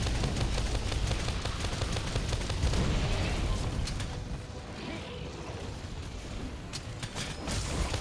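Explosion on a monster's tail during a Monster Hunter World: Iceborne hunt, a dense burst of blasts and clattering impacts that stays loud throughout, thinning slightly in the latter half amid ongoing game noise.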